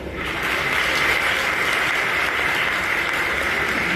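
An audience claps on cue during a comedy roast of Sunil Pal. A dense, steady wash of applause rises quickly after a quiet start and stays loud and even to the end.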